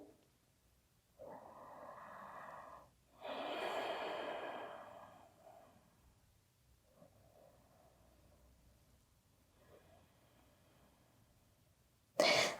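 Slow, deep breathing close to the ear: a long inhale followed by a heavy, sighing exhale through the mouth, then softer, fainter breaths in a calm, quiet room, ending with a brief sharp noise.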